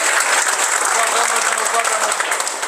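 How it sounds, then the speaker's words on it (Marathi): A political rally crowd in Mohol breaks into loud, dense, continuous applause to welcome a new party member, sustained evenly throughout. "एकदा सगळ्यांनी जोरदार टाळ्या वाजून त्यांचं स्वागत करूया"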